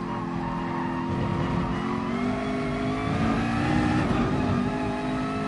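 A McLaren race car in a racing video game, its engine revving hard and steady with a loud, continuous droning whine that rises and shifts in pitch throughout, with no talk over it.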